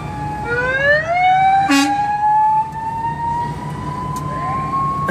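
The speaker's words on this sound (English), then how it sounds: "Random people have sirens on their cars." A siren on a car at a fall parade in Jackson, Kentucky rises and wails loudly nearby, holding a sweeping tone over road rumble, with a brief sharp clatter partway through.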